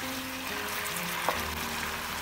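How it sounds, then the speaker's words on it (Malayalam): Pepper chicken frying in oil in a pan gives a steady, dense sizzle throughout, with one small crackle partway through and no talking. "ഫ്രൈ ഒരു ബ്രൗൺ കളർ വരെ നമുക്കിത് ഫ്രൈ ആക്കി എടുക്കാം"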